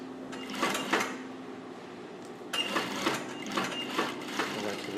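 Sewing machine stitching a blouse seam with the fabric slightly stretched, a steady mechanical whir running in two bursts with a brief lull between, close and moderately loud, no talking.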